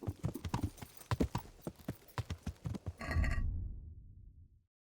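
Rapid, rhythmic hoofbeats of a ridden horse in the video game Kingdom Come: Deliverance clip-clop close by for about three seconds, then a loud snorting burst, with a short whinny or rumble fading into silence.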